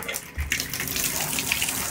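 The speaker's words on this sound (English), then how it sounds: "the tub is still working, the water is pouring out" Water gushes steadily from a bathtub tap during a Symmons Temptrol shower valve repair, a continuous close splashing pour that fills the whole stretch with no talking.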